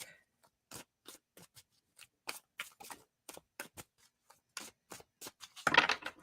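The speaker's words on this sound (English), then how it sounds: "And there's a sloppy shuffle." Tarot cards being shuffled loosely by hand, a run of quick crisp riffling bursts and slaps spaced irregularly, ending in a louder dense flutter, close and alone without talk.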